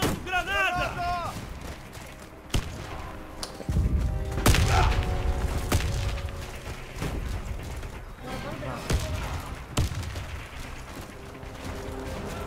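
Gunfire and explosions in the online shooter Warface: sharp repeated shots and heavy booms, including a thrown grenade blast, crack through a round under game announcer voices and player chatter.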